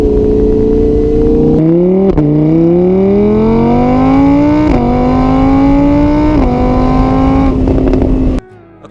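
An Audi R8 sports coupe with a 5.2-liter naturally aspirated V10 revs hard and loud, its pitch climbing through several gear changes marked by brief dips, then cutting out near the end.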